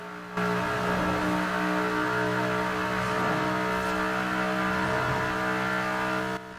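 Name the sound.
1800 HP Ford Mustang engine revving in tunnel, Forza Horizon 4 video game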